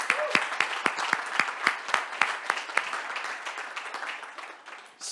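Audience at the MTL Tech Awards 2024 gala ceremony applauding, individual claps and bursts standing out near the start before the applause thins and fades toward the end.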